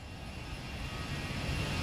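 Simulated Boeing 737-800 jet engines at takeoff power in X-Plane 11, a loud steady broadband roar that swells slightly over two seconds, with no voices.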